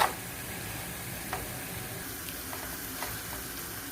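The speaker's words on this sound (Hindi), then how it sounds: "और इसमें से चिकन को अच्छे से भून लेंगे। अब इसको अच्छे से इस तरह भूनते रहेंगे" Chicken fries with spices in a pan, giving a soft, steady sizzling hiss with a few faint clicks of stirring throughout, quiet and without speech.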